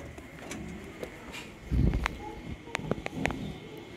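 A pair of Lowya Cheena breeder pigeons coo at a fancier's home. There are short, low coos and a burst of wing or shuffling noise, close by, with a faint voice in the background.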